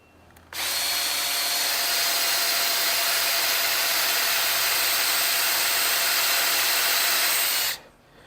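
Power drill boring into wood with a Forstner bit for deck railings: a loud, steady high whine starts abruptly, holds for about seven seconds, then stops.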